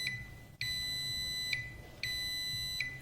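A continuity tester, used while checking an alternator rotor winding, gives two sustained electronic beeps, each roughly a second long and separated by a short pause. Both are close and clear against a quiet background.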